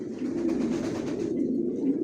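Racing pigeons coo in a loft, a soft, close, low burbling call that rolls on continuously for a couple of seconds with no other sounds.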